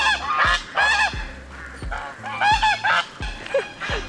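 Several geese honk repeatedly in loud, nasal bursts close by in a backyard garden in Porto, Portugal, with short pauses between calls and low background noise.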